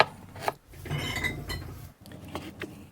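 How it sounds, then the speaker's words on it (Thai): A knife works steadily on a cutting board, slicing peeled ginger into strips, cutting and scraping with soft clicks and rubbing sounds, close up and with no talking. "แล้วก็หั่นขิงเป็นเส้นๆนะครับ"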